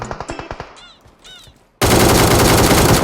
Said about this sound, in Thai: โอ้โหปืนยิงโคตรจ้า อัตราการดีดเวเวอร์วางอลังการ